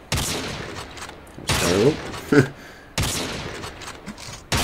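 Gunfire on a practice range in the mobile shooter Call of Duty: Mobile, several sharp bursts of shots separated by pauses, with someone briefly talking between them.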